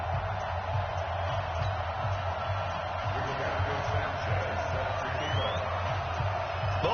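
A stadium crowd in an EA Sports NFL football video game roars steadily before a Chicago Bears versus Tennessee Titans matchup, a broad continuous wash of cheering with a commentator's voice over it.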